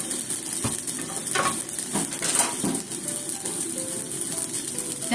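Eggplant slowly grilling in a pan on low heat, a steady soft sizzle with a few light utensil clicks and scrapes, close up, no voices.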